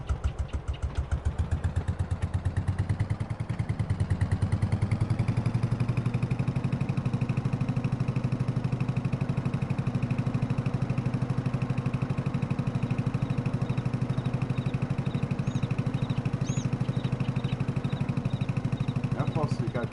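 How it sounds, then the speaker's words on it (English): Engine of a classic Porsche Diesel Junior tractor in Farming Simulator 22, a rapid, even thumping diesel idle that settles into a steady drone, with someone talking over it. "Ah, my classic Porsche Diesel Junior."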